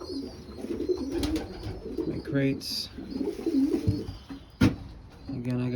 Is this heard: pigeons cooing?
yes